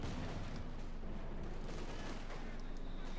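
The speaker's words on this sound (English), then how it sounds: "Sappers are getting pretty much peppered with heavy fire." Heavy gunfire rakes sapper infantry in the Company of Heroes 2 video game, a dense continuous crackle of shots and bursts held at a steady, moderately distant level.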